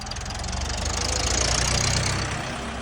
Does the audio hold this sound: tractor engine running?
yes